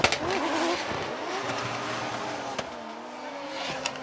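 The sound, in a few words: drift cars chasing at Formula Drift Japan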